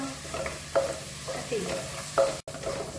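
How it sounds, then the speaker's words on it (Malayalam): Onions, ginger and green chillies frying in a pan while being stirred, a steady sizzle running throughout with occasional scraping strokes of a spatula, close and moderately loud. "ഇതും കൂടി ഇട്ടിട്ട് നന്നായിട്ട് നമുക്കൊന്ന് മിക്സ് ചെയ്തെടുക്കാം."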